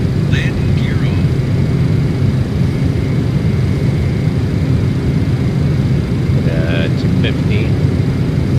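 Inside a simulated Boeing 727-200F climbing out after takeoff from El Alto, a steady broadband jet engine roar fills the cabin throughout, with brief faint electronic cockpit tones near the start and again near the end.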